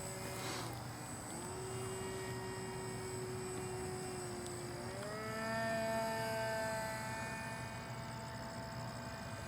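An EA Photon model airplane in flight gives off a steady whining motor tone that rises in pitch midway as the throttle opens. It is heard from a distance over a constant low hum.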